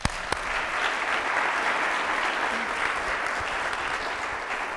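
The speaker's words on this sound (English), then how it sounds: "Another applause." Applause from a live audience at a music talk show, a dense, steady wash of clapping that holds evenly for several seconds, full and close, with no voices over it.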